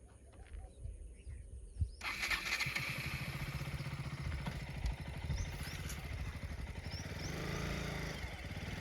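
A KTM Duke motorcycle engine out on a farm, faint at first and then running steadily close by with a rough, throbbing idle, birds chirping faintly in the background.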